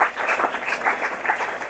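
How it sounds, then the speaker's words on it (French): A church congregation claps and applauds together, a brief, dense, steady wash of many hands that stays loud throughout, with no talk. "Acclamons pour la gloire du Seigneur Jésus."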